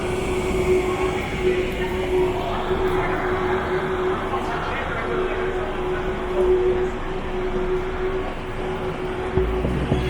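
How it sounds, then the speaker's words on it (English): Steady low rumble of a Frecciarossa 1000 high-speed train rolling into Verona Porta Nuova station, with a sustained mechanical hum and faint clatter running throughout. "my train is arriving here at Porta Nuova"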